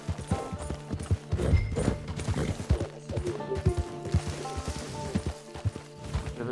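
Horse hooves gallop in a steady clip-clop rhythm through Red Dead Redemption 2 gameplay, close and continuous, with a faint whinny and occasional thumps mixed in.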